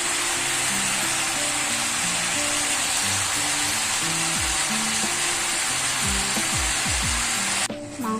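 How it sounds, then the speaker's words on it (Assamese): Goat meat and potatoes fry in a pan with a steady, loud sizzle that carries on throughout, while faint scraping and stirring sounds come through. "মাংস আৰু আলুখিনি অলপ ভজা যোৱাৰ পিছত"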